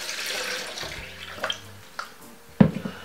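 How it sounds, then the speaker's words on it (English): Water streams from a tap into a blender holding cut beetroot, a soft pouring hiss with a few splashes and clunks, ending in a louder knock, fairly close by. "Now, I'm going to put roughly about 2 cups of water."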